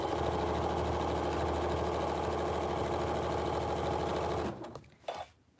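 A sewing machine stitches down fabric for a homemade surgical face mask, humming in one steady, close run for several seconds before stopping abruptly, followed by faint handling noises.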